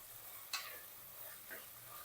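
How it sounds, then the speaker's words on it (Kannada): Peas, capsicum and tomato fry in oil for methi pulao, giving a faint, soft sizzle with two brief scraping stirs of a spoon against the pan. "ಹಾಗಾಗಿ ಎಣ್ಣೆಯಲ್ಲಿ ಹುರಿತಾ ಇದ್ದೀನಿ."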